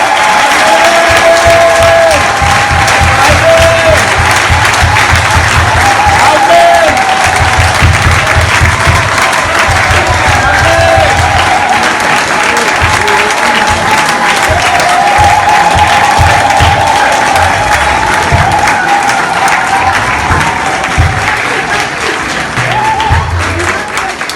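Loud, sustained applause fills a large church assembly acclaiming its newly named board president, with dense continuous clapping, crowd murmur and scattered cheers running throughout without pause.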